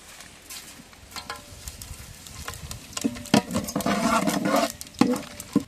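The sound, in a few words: cinnamon and whole spices frying in hot ghee and oil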